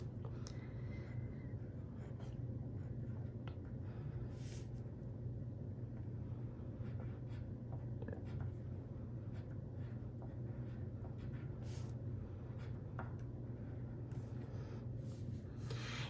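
A green crayon scratching a name and class code onto paper in short, faint, intermittent strokes over a steady low rumble from road traffic, with no talk.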